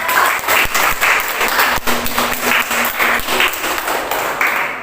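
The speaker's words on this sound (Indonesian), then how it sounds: "Ya, beri aplaus untuk kelompok 3" Applause from a classroom group of university teacher-training students, steady dense clapping throughout, fairly loud and close with no talk over it.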